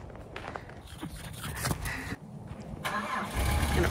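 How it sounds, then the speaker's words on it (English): An old Mazda car engine is started outdoors, with a cranking burst and a catch into a steady rumbling idle, moderately close, amid ambient outdoor noise and a few footstep-like sounds. "Gonna fire up the old Mazda."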